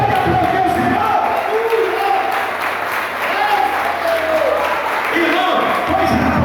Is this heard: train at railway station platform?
no